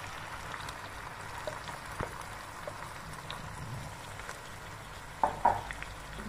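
Marinated chicken is added to a pan of lightly browned onions and fries with a steady close sizzle, with a few clinks and stirring scrapes near the end.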